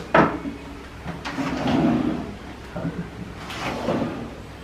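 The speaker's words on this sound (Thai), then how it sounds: "ตูลินชักนี่คือเลื่อนได้สุดเลยนะครับ" A drawer in a U-shaped concrete kitchen with real wood cabinet fronts slides open on full-extension runners, a sharp knock followed by smooth rolling rumbles, repeated a couple of times up close.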